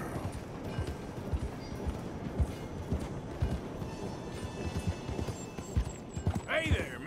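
Horse hooves clip-clop in a steady trotting rhythm in the video game Red Dead Redemption 2, with a whinny near the end and a player talking over it.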